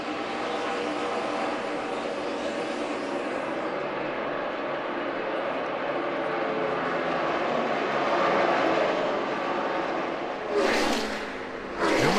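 NASCAR stock cars racing at Darlington in the 2011 Southern 500, a sustained roar of engines under continuous crowd and track noise, with a car whooshing past loudly near the end.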